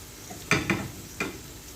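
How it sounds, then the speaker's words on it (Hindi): Whole spices and bay leaves frying in a pan on a medium-low flame for matar pulao: three soft stirring bursts with a light sizzle, fairly close, no talk. "अब इसको लाइट ब्राउन होने तक फ्राई करेंगे मीडियम टू लो फ्लेम पे"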